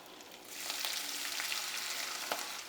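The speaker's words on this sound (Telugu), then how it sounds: "ఓకే, వేసాం కదా, ఇమ్మీడియట్గా ఆనియన్ వేసేద్దాం." Onion dropped into hot oil in a home kitchen pan while making a potato and vegetable fry, giving a steady, close hiss of frying with faint stirring scrapes and a brief louder spit.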